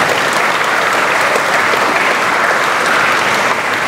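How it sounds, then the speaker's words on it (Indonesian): Loud, dense congregation applause during a Christ the King feast and confirmation Mass, a continuous wash of many hands clapping at close range. "Tepuk tangan untuk mereka."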